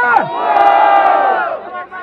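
A loud crowd at a freestyle rap battle in São Gonçalo roars and shouts together, cheering steadily for about two seconds before the noise drops off.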